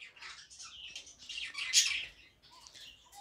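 A budgerigar parent beside its chick in a cage gives high, scratchy chirps and squawks in a quick run, peaking in one sharper squawk before softer chatter follows, close and moderately loud.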